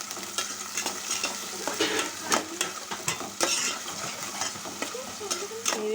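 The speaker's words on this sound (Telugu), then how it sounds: "ఇప్పుడు ఇందులోనే పచ్చిమిర్చి అలా పచ్చిమిర్చి అలాగే ఆనియన్స్ అయితే వేస్తున్నాను ఒకసారి అయితే కలిపేస్తున్నాను" Green chillies and onions dropped into hot oil and stirred, a busy crackling sizzle with repeated spoon scrapes and light clinks against the pan, close and continuous, no talk.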